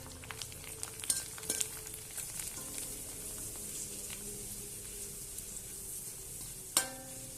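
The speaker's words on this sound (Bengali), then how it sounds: "এবার আমি পাঁপড় ভেজে নেব।" Papad (poppadom) frying in oil alongside tehari cooking, with a faint, continuous hiss and crackle, a few scattered pops and one louder clatter near the end.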